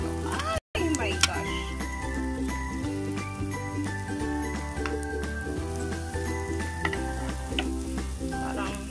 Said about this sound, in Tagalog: nagluluto naman ako ng Shanghai. Pork Shanghai